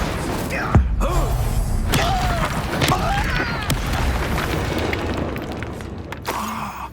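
Spells are cast in the video game Hogwarts Legacy, with booming blasts and whooshing magical bursts layered over a busy, cluttered game soundscape with swirling tones and thuds throughout.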